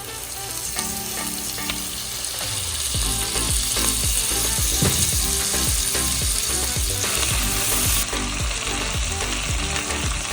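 Steady, loud sizzling of onions frying in a pan for soya chunk pulao, with occasional stirring scrapes and clatters running throughout.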